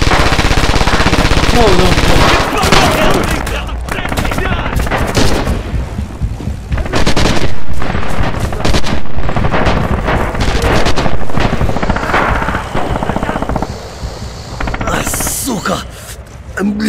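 Rapid machine-gun bursts and rifle shots fill a Red Orchestra 2 battle, loud and nearly continuous, with players shouting over the gunfire.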